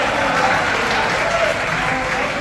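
An audience claps steadily and evenly for a couple of seconds, a dense wash of hands filling the space with no pauses.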